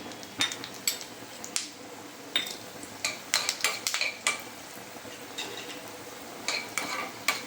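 Coriander seeds dropped into a small amount of hot oil in a pan, crackling and sizzling with scattered sharp pops and occasional light clinks of a spoon against the pan, close by.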